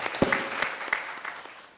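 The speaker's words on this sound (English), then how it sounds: "Let's give her a hand for applause" Brief, thin applause at the close of a panel discussion at a women's leadership summit, a few scattered claps fading quickly in a moderately reverberant hall.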